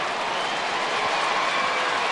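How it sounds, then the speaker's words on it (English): A ballpark crowd of Athletics fans applauding and cheering a Yankees baserunner's stolen base, a dense, continuous wash of clapping and crowd noise at steady volume throughout. "It's amazing that the A's fans are cheering a Yankee stealing a base."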